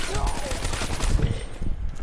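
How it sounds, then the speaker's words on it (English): Rapid automatic gunfire from the Call of Duty Black Ops 3 Zombies mode, Nacht Der Untoten map, rattles in dense bursts throughout, with a voice over it. "I'm not sure if it's the gunfire that's keeping you awake"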